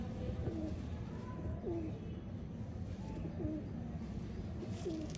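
A Royal Teddy pigeon coos in soft repeated phrases, about four short calls spaced roughly a second apart over quiet steady background noise, faint and without speech.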